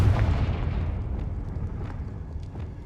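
Heavy rumbling blast from a Bombarda explosion spell cast in a wizard video game, loud and close at first, then decaying into a lingering low roar with scattered crackles.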